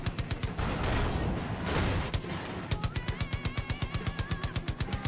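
Mounted vehicle guns firing in Far Cry 5, heard as rapid rhythmic bursts of automatic gunfire, loud and close, with a brief broader noisy stretch mid-clip before steady regular shots resume.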